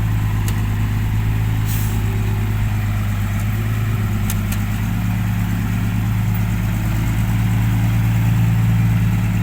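A blue six-wheel truck engine idles and runs steadily at close range with a continuous low throbbing drone, loud and unbroken throughout, with no talk over it.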